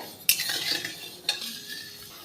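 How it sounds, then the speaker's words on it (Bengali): Sugar syrup being stirred in a pan over a gas flame: two distinct scrapes and clinks of a utensil against the pan, close and moderate, with a faint hiss between them. "এবার আমি গ্যাসের ফ্লেমটাকে অন করে দিলাম আর নাড়াচাড়া করব"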